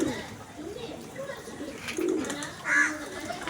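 Fancy pigeons cooing in a loft, soft low coos rising in a couple of swells, close by, with faint human sounds in the background.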